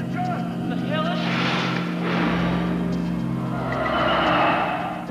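Pickup truck speeding off on a remote Arizona road at night, engine surging and rising in pitch as it pulls away, tires hissing over the surface, with a voice speaking over it.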